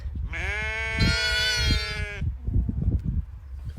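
A ewe on a farm during lambing gives one long, loud, wavering bleat close by for about two seconds, followed by rustling and shuffling in the pen.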